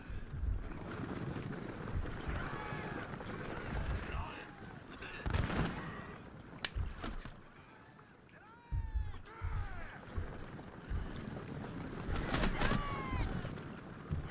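Musket volleys crackle in a Shogun Total War battle, scattered shots popping amid battlefield noise and wind-like rumble, with several sharper bursts standing out while someone talks over the action.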